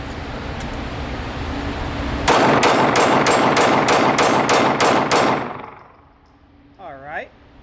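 A Glock 43X pistol fires about nine rapid, evenly spaced shots, loud and close, with the steady background dropping to near quiet afterwards.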